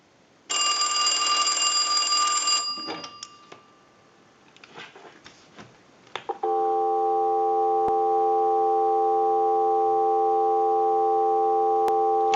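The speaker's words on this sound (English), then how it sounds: "we'll give you some dial tone" A final harsh burst from an Automatic Electric three-slot payphone bell gives way to clicks and handling, then a steady, loud continuous dial tone holds through the rest, no talk.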